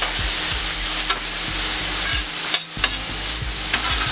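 Onions and vegetables sizzling on a hibachi griddle at home, a loud continuous frying hiss broken by regular scraping and stirring knocks from a spatula, without talk.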